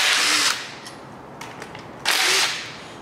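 A power tool spins out 10mm bolts from the coolant lines on a 5.3L LS LM7 V8 engine: two loud, close bursts of whirring about half a second each, separated by a quieter pause with faint clicks.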